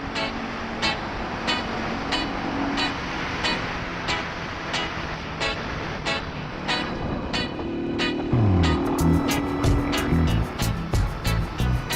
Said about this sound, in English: Look at all this fucking traffic.